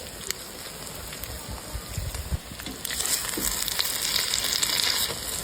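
Spring onion leaves fry with egg and corned beef in a pan, giving a steady close sizzle that grows louder partway through, with faint stirring and no talking.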